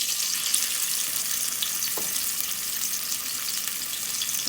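Oxtail sears in a hot pot for Jamaican oxtail, producing a steady, loud, hissing sizzle that holds evenly for the whole few seconds, with no voices.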